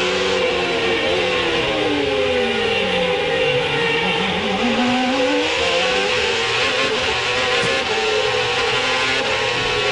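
CART race car heard on board at the Long Beach street circuit, a loud continuous high engine scream that drops and climbs through the gears as it brakes and accelerates near the hairpin.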